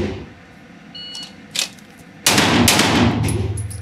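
A Sig Sauer pistol fired at an outdoor shooting range during a drill: two sharp, loud shots in quick succession after a quiet lead-in, with a lingering echo afterward.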